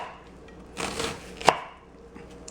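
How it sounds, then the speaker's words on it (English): A knife slices food thinly on a cutting board for a strawberry spinach salad, a soft burst of quick cuts followed by one sharp knock against the board, otherwise quiet. "So we'll cut it nice and thin."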